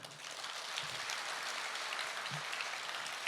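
Audience clapping at the opening ceremony of a cultural center, a soft, even patter of many hands heard from a distance, with no voices.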